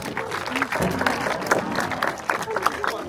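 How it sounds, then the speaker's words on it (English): A crowd at an outdoor bird show at a safari park applauds after a bald eagle catches a fish, scattered clapping and crowd noise mixed with voices in the background. "We can give her a big round of applause."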